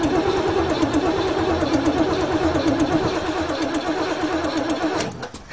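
A Chevrolet engine on a farm, being worked on with the choke, cranks with a rapid rhythmic churning and briefly catches before the sound drops off near the end. The clip is close and fairly loud, with no voices.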